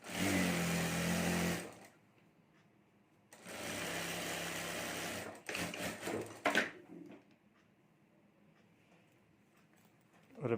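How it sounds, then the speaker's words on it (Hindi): A home sewing machine stitches a zip onto fabric strips for a sling bag in two loud steady runs of whirring, separated by quiet pauses, followed by a burst of uneven handling clatter. "और अब यहाँ ऊपर हमें सिलाई करके जीप जोड़ देनी है।"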